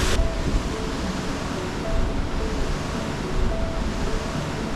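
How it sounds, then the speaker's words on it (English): Wind buffets a microphone near the top of England's highest mountain, a loud, continuous roar with gusty swells and no talking. "It's a bit windy"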